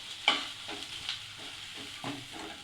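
Coconut and chilies for a chicken curry are stirred and sautéed in a pan, with a quiet sizzle beneath several distinct scraping strokes of the spoon and a sharp clink near the start.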